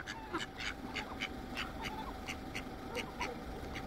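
Wild ducks quacking in a steady series of short, repeated calls, fairly close and clear over a constant background hum, with no voices.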